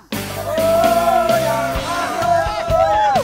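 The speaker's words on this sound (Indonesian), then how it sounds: "Lagi-lagi, teriakan membuat semangat kami semakin membara." Group of people shouting and yelling together to spur each other on while hauling a heavy sago trunk by hand in the Tana Tidung wilds, loud and close, sustained voices rising over about three seconds.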